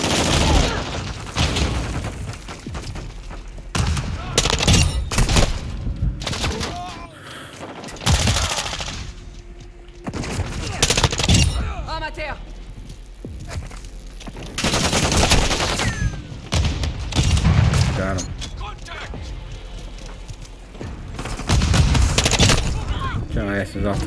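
Grenade blasts and heavy gunfire from Call of Duty Modern Warfare 2 multiplayer: loud, dense bursts of automatic fire and booms recurring throughout, with shouted voice callouts mixed in.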